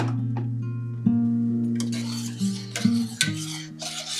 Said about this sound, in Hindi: इसी बीच मैंने दाल को छौंक लगा दिया